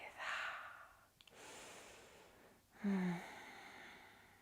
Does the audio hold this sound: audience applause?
no